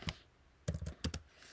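A computer keyboard clacks close up in a quiet room, a lone keystroke followed by a quick run of several taps and a final pair.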